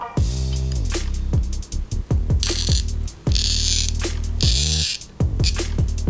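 A cheap tube cutter scrapes and grinds around a 40 cm hardtube in repeated rotating passes, with rhythmic tonal whines and ratcheting clicks, loud and close with no talk.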